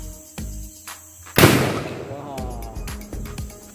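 A homemade spirit (methylated alcohol) cannon goes off outdoors with one loud, sharp boom. The blast has a noisy tail, insects chirp in the background, and the boom sits among other sounds.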